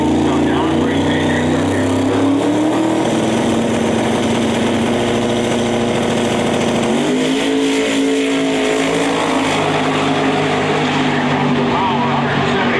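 A drag racing car roars at full throttle down the strip, its loud, continuous engine note climbing through the gears with a brief dip at a shift before rising again; a voice talks over the engine.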